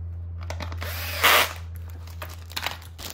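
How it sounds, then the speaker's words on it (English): A power drill whirs briefly and sharply as it drives a screw into an office chair, followed by a few small clicks and taps, over a steady low electrical hum. "I'm just gonna speed up installation here with the power tool"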